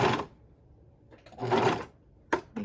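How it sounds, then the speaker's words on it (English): A serger sewing machine runs in short whirring bursts as its knife trims off thread while attaching cuffs, close and loud, separated by quiet pauses. "we're going to be cutting off this thread with the knife"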